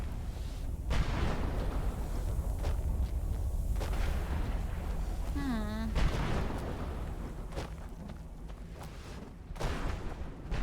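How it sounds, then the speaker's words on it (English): Gunfire from a video game, a run of booming shots and blasts at a steady level with people talking over it. "They're firing guns."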